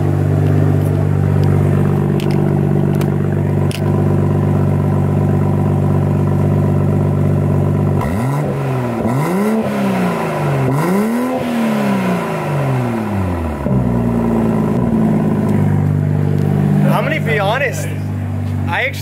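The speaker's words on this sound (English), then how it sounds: "get a couple of revs in with nothing on there." A Toyota A90 Supra fitted with an AWE exhaust revs loudly from idle in a series of quick, rising and falling throttle blips that stand out over a steady engine drone, with people talking around it.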